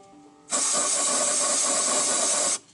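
Aerosol spray squirted into the oil filler hole of a Mk3 Ford Cortina Estate, a single loud, steady hiss lasting about two seconds that starts and stops abruptly, with no talking.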